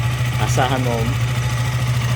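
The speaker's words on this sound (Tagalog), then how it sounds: "Start natin yung motor." KTM motorcycle engine idling, a steady low mechanical hum with a fast even pulse, heard close with someone speaking briefly over it.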